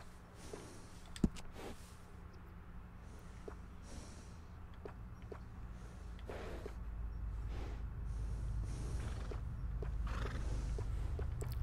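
Horse in the video game Red Dead Redemption 2 snorting and clip-clopping at a walk, with a faint whinny, soft hoof steps continuing steadily under game ambience, no talk.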